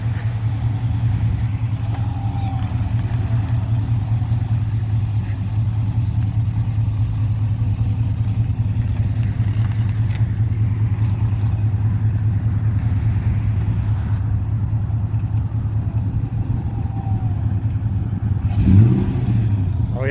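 A car engine rumbles steadily through its exhaust at idle for a long stretch, with a low throbbing drone and a brief swell near the end.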